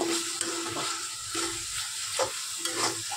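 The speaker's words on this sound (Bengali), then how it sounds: "ধনে জিরে গুঁড়ো একটু দিয়ে নাড়তে থাকবো" Soya chap masala with coriander-cumin powder frying in a pan, a steady close sizzle broken by repeated scraping strokes of a spatula as it is stirred.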